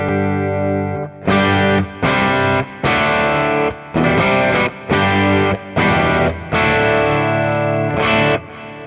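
An overdriven electric guitar through an STL Tones ToneHub amp-sim preset with a Klon pedal plays a string of distorted chords in short bursts, each ringing out with a trailing delay echo and roomy reverb wash, loud and close.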